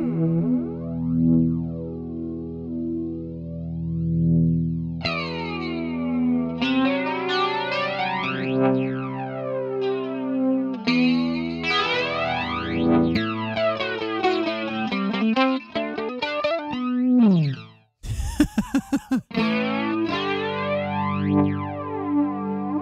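A guitar runs through a flanger effect from the ToneStack Pro amp and effects app, playing loud, close chords and notes with a sweeping, jet-like whoosh. A brief gap is followed by a sharp swept burst before the playing resumes.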